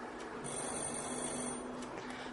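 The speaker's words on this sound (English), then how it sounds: "When I press bell button, you see green light, which is indicator that bell is ringing." An electric doorbell rings inside a vacuum chamber that still holds air, giving a faint, steady ringing tone for about a second over a low electrical hum.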